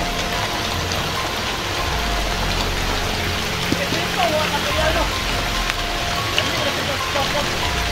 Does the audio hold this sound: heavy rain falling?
yes